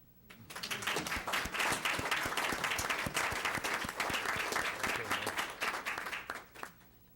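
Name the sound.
audience applauding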